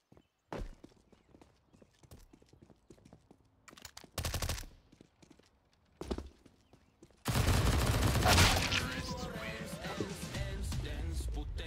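Decoy grenade in CS:GO imitating gunfire, heard as scattered sharp shots and short bursts of rapid fire, followed by a sustained louder stretch of dense shooting and explosions toward the end.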